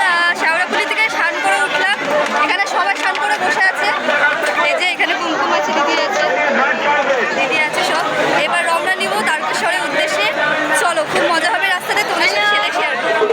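A packed alley at Tarakeswar on a crowded pilgrimage Monday fills with loud, dense crowd chatter, with many overlapping voices close by and continuing steadily throughout.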